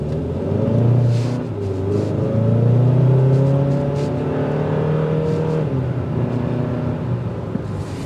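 A 2024 Hyundai Sonata N Line accelerates, its engine note climbing in steady rising sweeps as it pulls harder, a strong close rumble from inside the car with no talking.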